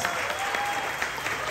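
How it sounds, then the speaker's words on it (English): Applause from a convention audience during a Q&A panel at a Superman fan celebration, a dense steady patter of many hands clapping at moderate distance for a brief stretch. "big round of applause to Supergirl Tara over here"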